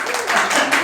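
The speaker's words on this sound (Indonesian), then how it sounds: "berikan tepuk tangan yang sangat meriah" Audience applause at a church Bible-reading contest in Tangerang, a brief steady wash of many hands clapping at moderate loudness, with no clear voices over it.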